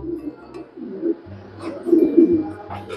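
A weakened racing pigeon, separated from the flock, coos in low repeated throaty phrases, fairly close and clear, with a few rustles and faint background sounds between the calls.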